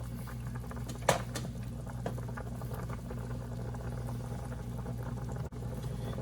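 A pot of starchy liquid at a full rolling boil, throwing up white foamy bubbles like oatmeal about to overflow, bubbles and pops steadily and close up throughout, with one brief louder splash near the start.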